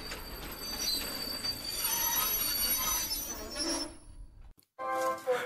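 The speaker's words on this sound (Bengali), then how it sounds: "দেখতে দেখতে ট্রেন নবদ্বীপ ধামে এসে পৌঁছল।" A train pulls into Nabadwip Dham station at night, wheels rumbling and squealing on the rails at a steady loud level before cutting off abruptly, followed by a brief clatter.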